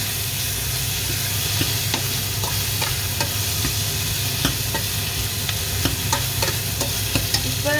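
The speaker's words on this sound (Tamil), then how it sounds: "அதையும் போட்டு கருவேப்பம்பையும் போடுறோம். போட்டு நல்லா பிரட்டி போட்டு" Chillies and curry leaves sizzle steadily in hot oil in a pan, with repeated scrapes and clicks of stirring over a constant frying hiss, while a cow meat curry is being prepared.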